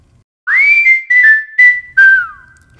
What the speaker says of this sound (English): You still have the normal whistling articulation,